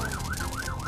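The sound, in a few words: fire engine siren sound effect in a museum play area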